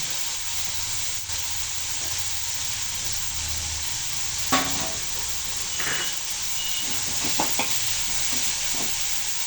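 Salt-sprinkled ingredients sauté in a pan for a Chettinad fish curry, giving a steady, close sizzle with occasional scraping stir strokes; no one speaks.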